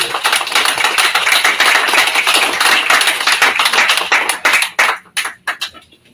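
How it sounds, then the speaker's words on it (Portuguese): A crowd applauds loudly with dense, sustained clapping that thins out into scattered individual claps before fading. "E uma salva de palmas ao PTB."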